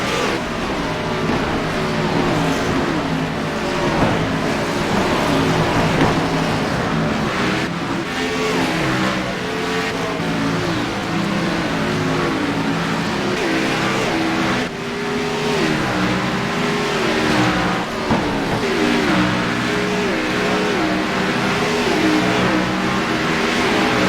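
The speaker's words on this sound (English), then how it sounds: "let's just listen to these cars going around Thunder Canyon" Race cars circle the Bristol Thunder Canyon track with a steady, loud engine roar throughout, rising and falling in pitch as they rev and pass, with no break in the noise.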